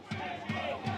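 A football crowd at Farnham Town vs AFC Croydon chants for a player to take the kick, three rhythmic, evenly spaced shouted calls from many voices, moderately distant.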